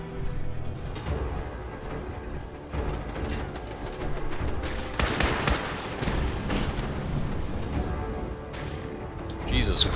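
Gunfire in the video game Fallout 4, dense bursts of shots crackling through a busy game mix, loudest around the middle, with voices talking over the action.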